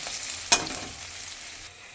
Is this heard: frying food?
yes